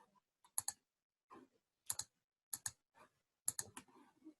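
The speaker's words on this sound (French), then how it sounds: "je tape FIO" Computer keyboard typing in short clusters of crisp key clicks separated by brief silences, close and quiet, with no speech.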